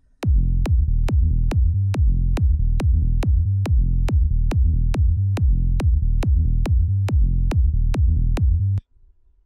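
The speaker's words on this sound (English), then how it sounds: "So the final bassline together with the kick sounds like this." Electronic bassline and kick drum in a psytrance production made in Ableton, a steady fast four-on-the-floor pulse of punchy kicks with rolling bass notes between them, loud and alone for about nine seconds before stopping.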